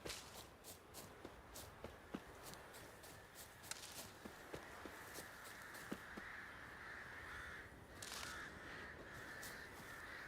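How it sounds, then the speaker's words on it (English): Crows caw repeatedly on an island in The Witcher video game, harsh calls scattered over a low ambient bed while footsteps tap steadily underneath. "There's an awful lot of crows around here."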